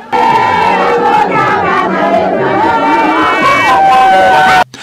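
A large crowd greets Vital Kamerhe with loud, continuous roaring and chanting, voices shouting together close by, then cutting off abruptly near the end.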